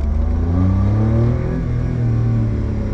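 A Honda Beat convertible's engine revs loudly and steadily, a deep rumbling growl close by with no voices.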